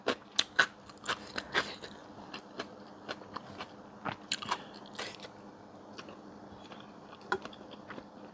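Crunchy boiled bitter bamboo shoots eaten with stir-fried mango chili paste with dried shrimp: close, crisp bites and crunches arrive in irregular bursts, loudest near the start, with quieter chewing between and no talking.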